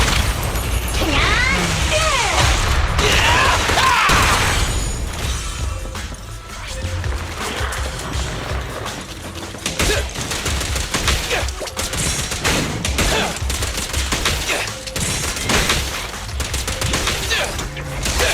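Rapid gunfire bursts and impacts from the video game Zenless Zone Zero rattle loudly and continuously, with booms, crashes and battle effects layered over game music.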